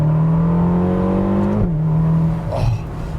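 A rare Ferrari with a dual clutch transmission revs hard from inside the car, its loud, steady engine tone climbing, then dropping sharply at a quick gearshift before pulling again.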